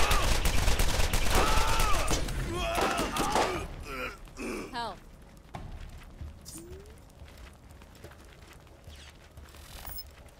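Gunfire and mechanical weapon clatter from the Borderlands video game during co-op play, loud bursts packed into the first few seconds, then fading to sparse shots and ambient noise, with voices faintly present.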